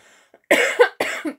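Two sharp coughs close to the microphone, one after another with a short pause between, following a brief quiet moment.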